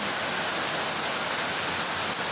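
Heavy rain pours steadily, a dense, constant hiss with no letup and no voices.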